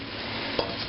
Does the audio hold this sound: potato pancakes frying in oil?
yes